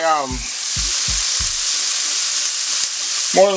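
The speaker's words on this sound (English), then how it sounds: "So the ham is cooking up here, and it's getting that little crust on it" Ham fries in a skillet for a country breakfast casserole, giving a loud, close, steady sizzle throughout. A few short low vocal sounds come at the start and the end.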